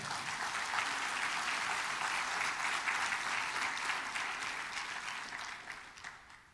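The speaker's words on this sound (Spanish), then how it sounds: "¿Cuánto le da un aplauso al Señor?" Sustained applause from a church congregation, steady and fairly loud throughout, fading slightly toward the end.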